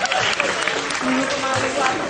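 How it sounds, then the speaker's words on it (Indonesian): Audience applause at a stand-up open mic night, a dense, even spread of clapping mixed with crowd voices and laughter. "Tepuk tangan sekali buat orang Jawa"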